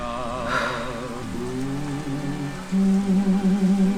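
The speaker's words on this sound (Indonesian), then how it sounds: "Pada malam itu hujan deras sekali" Heavy rain falls steadily as a sound effect in a stage drama filmed as a theatre film, a continuous wash that swells louder near the end alongside low droning tones.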